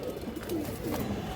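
A pair of pigeons, a red-necked male and a khaki female, coo softly up close in a steady, low, rolling murmur that runs unbroken through the moment.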